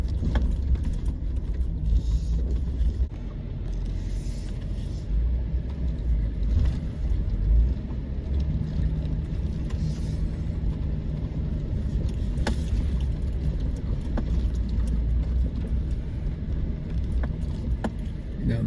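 A Jeep crawls slowly over rocks on a rough mountain trail on the Bear Valley Loop in the Lost Sierra, its low engine rumbling steadily and close throughout, with occasional knocks and scrapes from the rocks.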